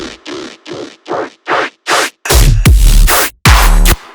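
Dubstep bass filtering in: short rhythmic pulses start thin and muffled, then open up brighter and heavier until loud, full-range bass blasts with deep low end take over, no talking.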